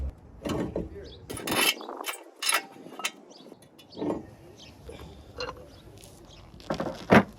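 Brake caliper with its carrier and the brake disc coming off a Mazda MX5 wheel hub, heard as scattered close metallic clicks, clunks and ratcheting knocks at irregular intervals, fairly quiet overall.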